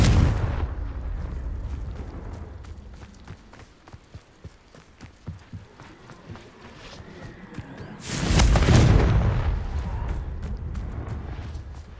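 A Confringo fire spell blasts in Hogwarts Legacy, a loud burst of explosive rumble near the end that trails into lingering roar, after a stretch of quieter game ambience with scattered impacts and footsteps.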